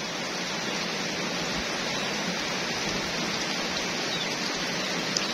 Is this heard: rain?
yes